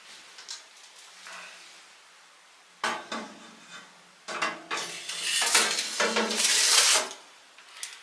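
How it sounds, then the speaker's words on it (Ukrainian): A metal rack holding two chickens is set into a smoker with clanking metal knocks and scrapes, quiet at first, then louder bursts of rattling and clattering nearby, no talk. "І встановлюю цей стелаж в нашу коптильню"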